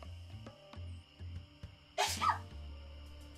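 A single sharp sneeze bursts out near the middle, loud against a quiet room with low hum and scattered soft clicks before and after.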